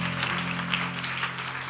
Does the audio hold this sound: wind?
no